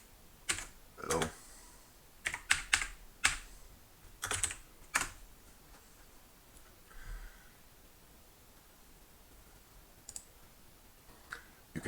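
Bursts of clicky keyboard typing in quick clusters, pausing between runs, close and fairly soft over a faint background hiss.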